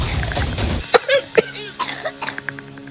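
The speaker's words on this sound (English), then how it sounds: "Cold, soaked, shivering, she climbed out, coughing." A few sharp coughs in a row, close and fairly loud, following a stretch of low rumbling noise.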